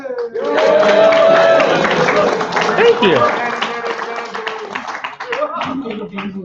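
An audience at a Transformers fan convention (TFcon) media panel applauds and cheers, a dense crowd clapping under loud, continuous talking and brief thanks from people near the microphone.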